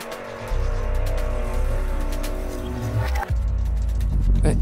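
A car engine roars steadily and close from a music video scene featuring a fiery red car, cutting out briefly then surging back louder with no talking.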